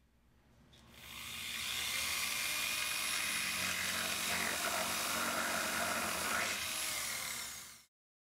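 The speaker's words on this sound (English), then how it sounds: "drill through both walls of the canopy" A steady, high-pitched drill whine runs for several seconds as a 1/8 or 5/32 inch bit drills through both walls of a canopy, starting abruptly, holding constant, then cutting off.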